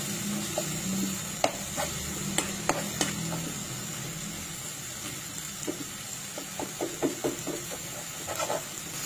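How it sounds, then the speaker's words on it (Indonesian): Palm sugar is stirred in a pan until it melts, a soft steady sizzle with scattered light scrapes and taps of the utensil against the pan, with no voices. "Ini kita aduk-aduk sampai gula merahnya itu meleleh ya, teman-teman, sambil diaduk-aduk."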